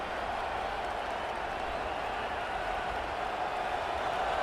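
A large stadium crowd roars in a college football video game simulating Michigan versus Ohio State, a dense, unbroken wash of cheering and applause with no voices standing out.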